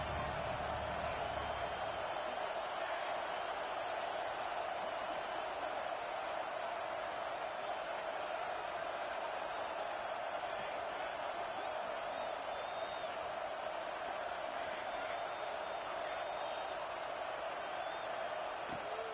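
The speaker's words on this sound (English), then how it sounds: "This crowd bringing the energy and noise early" Stadium crowd noise at a college football game between the Ducks and Texas A&M, a constant broad roar from a large crowd with faint scattered shouts, steady and distant throughout.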